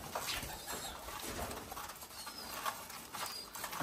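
Pigeons coo softly in a steady, low murmur, with occasional rustling and brief wing flutters nearby; no one speaks.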